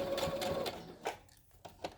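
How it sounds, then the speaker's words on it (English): A sewing machine stitches down the side of a fabric surgical face mask and back-stitches, a steady motor hum that breaks into short bursts as the seam finishes. "you just sew down this side. And back stitch."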